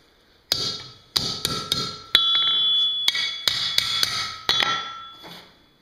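A blacksmith forging a scroll hammers a steel bar on the side of an anvil, with about a dozen sharp, ringing strikes in uneven bursts, close and loud.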